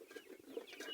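Chickens on a poultry farm cluck softly in a short, quiet burst of rapid, overlapping calls with no talking.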